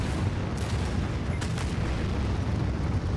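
A nuclear strike in the strategy game Anno 2205 produces a dense, loud, continuous roar of explosion rumble with a few sharper blasts inside it, and no speech.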